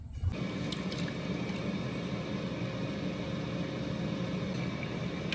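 Steady broadband whirring hum of an air fryer cooking sweet potato, starting abruptly after a brief click and then holding a constant, even fan drone throughout with no talking.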